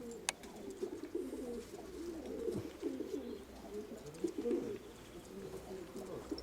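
Soft, repeated pigeon cooing in a low throaty rhythm, with faint background ambience and a couple of distant chirps.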